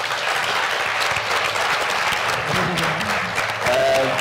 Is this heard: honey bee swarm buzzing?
no